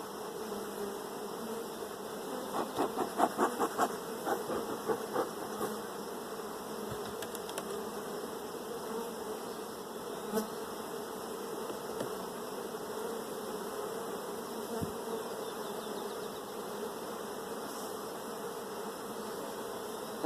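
Honeybees buzz around an open hive during a swarm simulation split, a steady close hum with a few louder passes of individual bees near the start and no talking.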